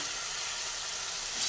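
Spices sizzle and fry in oil in a pan as a little water is added while cooking a spiny gourd curry, a steady, loud broadband hiss with no talking.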